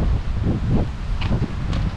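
Steady wind buffeting an open seaside campsite with caravan pitches in Kuşadası, a continuous low rushing roar with gusty swells and faint rustling throughout, no talking.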